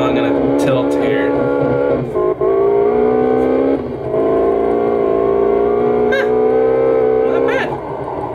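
A video-game car drifts with its engine revving loud and close. The sustained, strained roar shifts pitch several times, and brief squealing bursts and breaks cut in between the revs.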